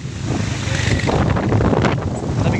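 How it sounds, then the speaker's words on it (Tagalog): Strong cold wind buffets the microphone in loud, roaring gusts that rise and fall without a break, on a steep uphill trail to San Ysiro Falls. "Lamig ng hangin, oh, lakas."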